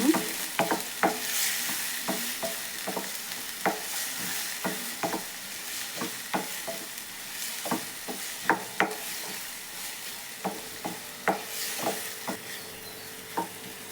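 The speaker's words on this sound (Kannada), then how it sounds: "ಕಟ್ ಮಾಡ್ಕೊಂಡಿರ ಆಪಲ್ ಹಾಕೊತೀನಿ ಸ್ವಲ್ಪ ಚೆನ್ನಾಗಿ ಫ್ರೈ ಮಾಡ್ಕೊಳ್ಳೋಣ ಆಪಲನ್ನು" Chopped apple pieces fry in ghee in a pan for apple kesari bath, giving a steady close sizzle broken by frequent spoon scrapes and taps as they are stirred, with no talking.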